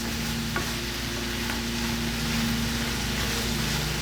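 Freshly fried fries tossed with spices, a continuous dense rustling hiss with a steady low hum beneath and one or two faint knocks, close and even in level, no one speaking.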